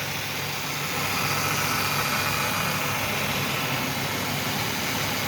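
A 1994 Ford Windstar's 3.8 engine idles with a steady, even drone and broad hiss, heard close and alone without talk.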